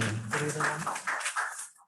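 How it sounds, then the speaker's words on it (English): Audience members at a Toastmasters meeting clap in a short burst of scattered, close applause that thins out and stops within two seconds. "A big round of applause to Toastmasters"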